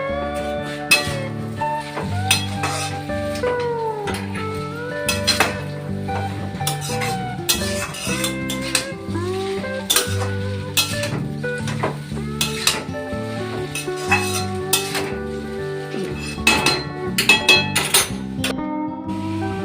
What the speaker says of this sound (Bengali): এবার এটাকে নাড়িয়ে মিক্স করে নেব